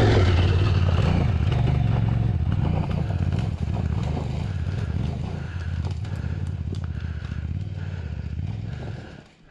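A dirt bike on the Billy Goat Bluff Track in Victoria's High Country revs loud and close at the bottom of a steep hill climb. The engine drones, rattles and rises, then tails off at the very end.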